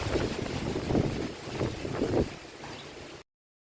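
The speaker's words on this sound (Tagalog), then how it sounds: "The weather today, mukhang malakas ang hangin" Strong wind buffets the microphone in loud, uneven gusts, rumbling and roaring for about three seconds before cutting off abruptly.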